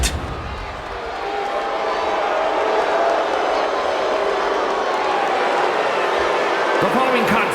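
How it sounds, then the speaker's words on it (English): A WWE 2K26 arena crowd roars and cheers steadily for a superstar's entrance, a loud, sustained wall of noise with a commentator speaking over it. "No surprise, the superstar is bringing the crowd to their feet."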